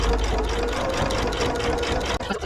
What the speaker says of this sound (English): I'm going to run another seam around the bag just to reinforce the bag and the straps and the stitches.